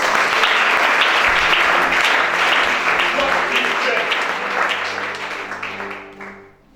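A church congregation at a deliverance service bursts into sustained loud applause, dense clapping that holds steady for several seconds before fading out at the end.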